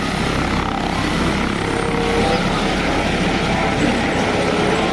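Toy helicopter whirring steadily and loudly throughout, a continuous buzzing rotor-like drone with no pauses and no talking.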